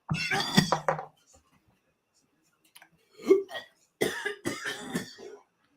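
Close, raspy coughing and hacking come in a few short bursts separated by quiet pauses, with a brief vocal sound in between.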